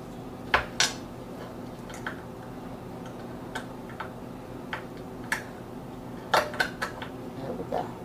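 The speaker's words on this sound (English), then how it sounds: "Put our little bolts where they need to go." Small metal bolts click and clink as they are fitted onto a chicken rotisserie spit; light, irregular metallic taps come close up, a few sharper, over a steady low background hum.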